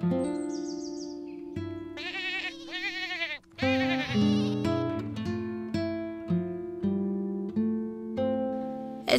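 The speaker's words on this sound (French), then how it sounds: "J'ai envie de prendre aussi une petite chèvre marron." A brown goat bleating in The Sims 4 ranch life, a run of loud, wavering bleats with clear pitch, some drawn out and others short, following one another with almost no gaps.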